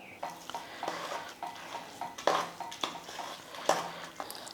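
A spoon stirs and scrapes rice with boiling water inside a pot for pongal in repeated uneven strokes, with soft clinks and a faint sizzle underneath.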